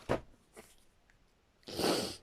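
A single sharp sneeze bursts out near the end, preceded by a couple of quick sniffs or snorts, close and fairly loud.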